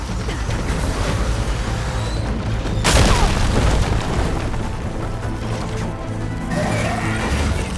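A hostile machine in Horizon Forbidden West opens fire, a heavy booming blast erupting over a loud, roaring battle din that rumbles on steadily afterward.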